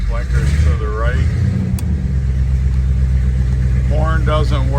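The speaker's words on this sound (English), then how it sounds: "We're gonna start up our Chevy Blazer here. Definitely needs some exhaust work." A 1976 Chevrolet K5 Blazer Chalet in need of exhaust work runs with a loud, rough low rumble throughout, while people talk over it.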